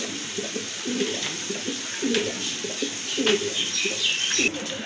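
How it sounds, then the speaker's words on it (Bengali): Blue pigeons kept in a pair for sale coo repeatedly in low, rhythmic bursts, close by, over a steady background hiss. "আরেক জোড়া কবুতর, ব্লু শার্টিন কবুতর"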